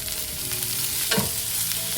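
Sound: green chilies and garlic frying in a pan

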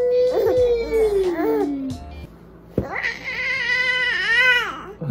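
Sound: cat meowing

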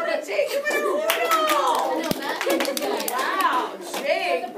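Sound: class applause for a student

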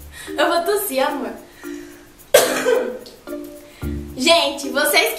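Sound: woman coughing

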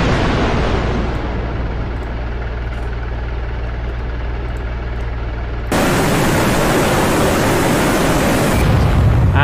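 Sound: SA-8 Osa SAM missile firing and exploding in DCS World video game

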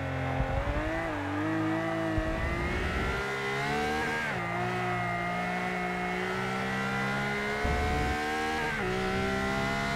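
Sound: Ferrari LaFerrari driving in the video game Forza Motorsport 6

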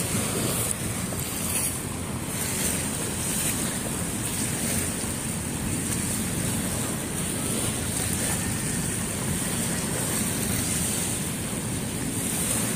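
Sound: strong waves at Manila Bay, Dolomite Beach

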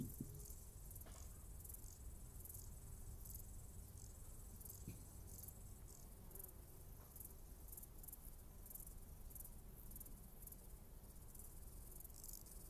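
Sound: grasshoppers chirping in an Alpine meadow, recorded via soil sensor

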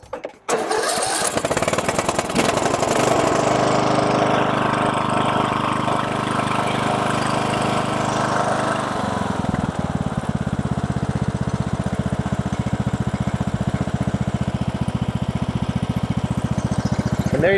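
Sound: riding lawn mower engine starting and idling

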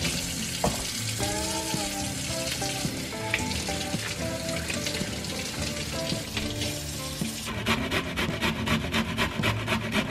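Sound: grating cauliflower for paratha stuffing

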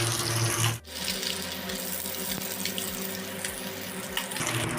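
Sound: water poured over green chillies to soak

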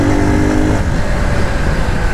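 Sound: Nova SHI 175 EFI motorcycle engine while riding

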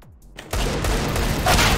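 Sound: gunshots in the video game CS:GO

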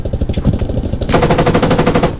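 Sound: gunfire in the Squad video game

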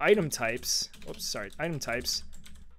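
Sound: typing on a computer keyboard

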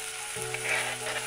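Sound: oil, paprika, tomato and onion frying in a pan

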